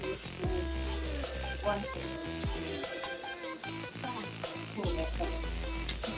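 Garlic sizzles steadily in a hot pan as it is sautéed for a hot and sour Chinese chicken soup, a continuous frying hiss under background music, with a single spoken word.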